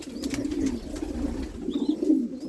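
Pigeons with their young in a loft, giving steady low throaty cooing in repeated warbling phrases, close and moderately loud, with a few faint higher chirps between.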